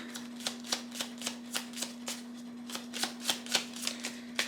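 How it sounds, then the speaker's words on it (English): Astrology cards being shuffled during a tarot reading, a rhythmic series of soft riffling bursts about twice per second, close and fairly quiet over a steady low hum. "Let's get some astrology cards on here to close out the reading."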